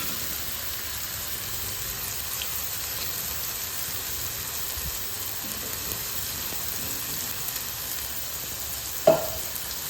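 Spice paste sizzles steadily in a hot pan while being stir-fried for water spinach, a constant soft frying hiss with faint scraping stirs and a single sharp clink near the end.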